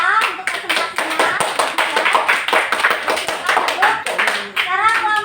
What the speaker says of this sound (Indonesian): kasih tepuk tangan untuk kelompok A untuk presentasinya